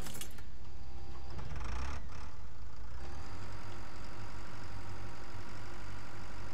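A farm tractor engine idles in the Pure Farming 2018 video game, a steady low rumble with a faint metallic jangle that runs unbroken and fairly loud for several seconds without any talk.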